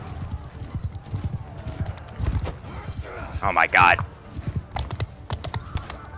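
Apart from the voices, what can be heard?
horses galloping in video game Bannerlord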